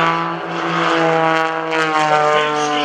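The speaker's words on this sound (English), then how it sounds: "Going vertical, coming in from the right here, rolling the airplane around" Greg Connell's aerobatic airplane, painted in a military tribute scheme, performs at the 2015 Greenwood Lake Airshow, its loud propeller engine holding a steady, buzzing drone that swells and eases slightly as it maneuvers.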